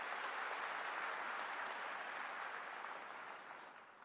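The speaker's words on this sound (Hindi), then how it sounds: "तो हम अपने मुख्यमंत्री अरविंद भाई जी का जोरदार तालियों के साथ स्वागत करते हैं." Dense applause from a large crowd welcomes the chief minister at a Delhi government festival event, sustained and even throughout before slowly fading toward the end.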